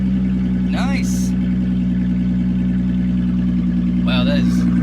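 A 2006 Chrysler 300 engine idles with a loud, steady exhaust drone that holds throughout, close by, with a couple of brief voices breaking in over it.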